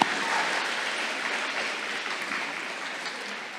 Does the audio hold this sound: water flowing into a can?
no